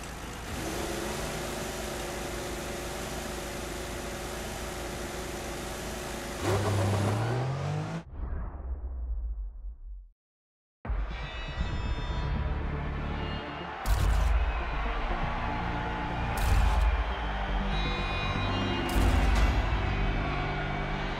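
A McLaren Formula 1 car's engine howls through a race at the Canadian Grand Prix in the F1 2014 game, rising and falling with gear changes. A brief total dropout near the middle interrupts the steady, loud engine drone.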